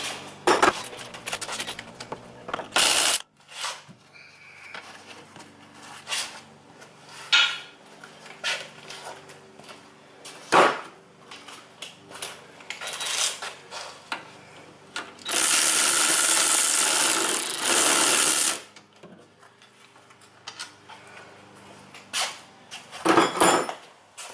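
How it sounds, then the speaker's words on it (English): Bursts of a buzzing power tool spinning out bolts on a 2004 Toyota Highlander rear wheel bearing assembly, with clanks and metallic handling of parts between runs, one longer sustained whir in the middle. "I can get a power tool on to buzz them out"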